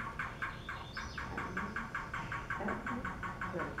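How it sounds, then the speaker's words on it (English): A yellow-billed cuckoo calls in a rapid, evenly paced series of hollow clucking notes, about a dozen in close succession, moderately loud and clear with no voices. "The yellow-billed cuckoo."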